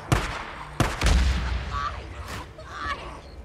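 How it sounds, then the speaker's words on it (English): A flashbang grenade goes off in the video game Days Gone: two sharp, loud bangs less than a second apart, the second trailing into a rumbling boom and fading debris-like noise. "let's use your flashbang. Oh, there we go. There we go. Have a flashbang."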